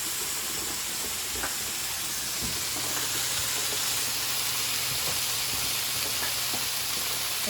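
French green beans sautéing with a splash of orange juice in a hot pan, giving a steady loud sizzle and hiss of steam with faint stirring clicks throughout.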